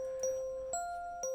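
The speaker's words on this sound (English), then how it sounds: "the dinging of bells is really annoying" Three bright bell dings mark turns in an online tabletop game, evenly spaced about half a second apart, clear and close over a faint background.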